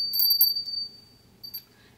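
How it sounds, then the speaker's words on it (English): A small handheld bell rings clearly, two bright strikes at the start followed by a fainter ring near the end, alone with no talk. "Each time I ring the bell,"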